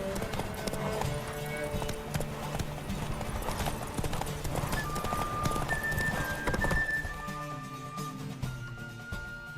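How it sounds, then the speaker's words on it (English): Hooves of a galloping horse in The Witcher 3 game clip-clop steadily and close throughout a race, over music and ambient game sound. "Whoa there, Roach"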